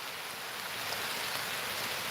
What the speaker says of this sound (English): the rain is coming down so